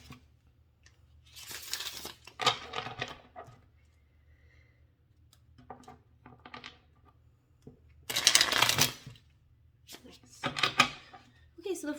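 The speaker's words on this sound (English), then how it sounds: "I'll shuffle like 1 or 2 more times" Tarot cards are shuffled in several bursts of rapid riffling and flapping, close and fairly loud, separated by quieter pauses with light handling noises.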